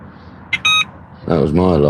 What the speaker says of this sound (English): That was my alarm though.